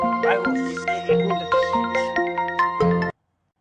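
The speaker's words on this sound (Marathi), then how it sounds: "एक मिनिट मला फोन आला जरा" A phone ringtone plays for an incoming call, a bright repeating melodic chime of evenly spaced notes, loud and close, then cutting off abruptly.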